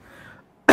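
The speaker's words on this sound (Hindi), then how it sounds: "ये मौसम बदल रहा है इसलिए खांसी हो रही।" A single sharp cough bursts out close and loud at the very end, following faint low murmuring and a quiet pause, from a man lifting 45 kg dumbbells in a gym.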